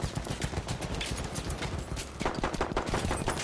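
Rapid gunfire in Battlefield 1, a steady stream of sharp shots crackling through a dense battlefield din, loud and continuous with a slight dip midway.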